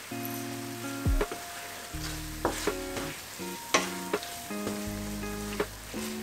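Tofu scramble with turmeric and paprika sizzling in a pan as it is stirred, a continuous close fry with several sharp spoon-scrape bursts at irregular intervals.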